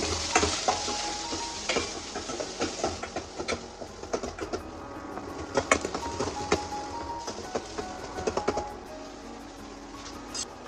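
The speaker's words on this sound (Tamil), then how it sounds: "கடலைப்பருப்பு, அரிஞ்சு வச்ச கருவேப்பிலை, வெங்காயெல்லாம் போட்டுக்கலாங்க." Onion, chana dal, urad dal and chopped curry leaves crackle and fry in hot oil for a tempering, with steady sizzling broken by frequent sharp pops and scraping stirs, close by and with no talking.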